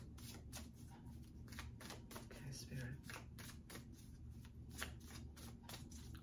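Tarot cards shuffled in quick repeated riffling bursts, soft and close, under a steady low background hum.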